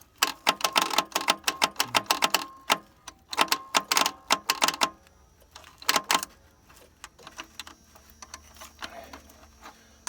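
A balky starter on an engine clicks rapidly in repeated bursts without catching, loud and close, with short pauses between runs and fainter ticking toward the end.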